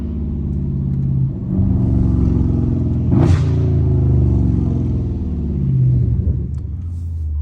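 A Dodge Scat Pack muscle car drifting through a neighborhood turn, its deep engine rumbling and revving up and down close by, with a brief sharp tire-squeal burst in the middle.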